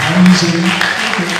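Scattered clapping from a workshop audience at the University of Ilesa continues beneath someone speaking over a microphone, the applause thin and steady behind his voice.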